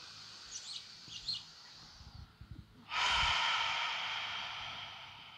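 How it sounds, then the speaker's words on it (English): Ujjayi yoga breathing, drawn through a constricted throat: a few soft nasal sniffs and breaths, then one long, loud, rushing exhale that slowly fades, heard close with faint birdsong behind. "engaging your ujjayi breath, a little constriction in the back of your throat, elongating the exhales"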